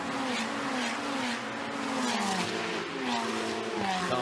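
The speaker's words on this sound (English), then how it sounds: "Cars screaming by." Ferrari Challenge race cars in a Coppa Shell race at the Autodromo di Imola pass at speed with high screaming engines, loud and continuous, the pitch dropping as each car goes by.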